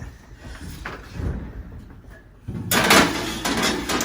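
A tray of caramel chocolate pretzel bites slides into an oven, followed by the oven door closing with a clunk and rattling metal, close and fairly loud.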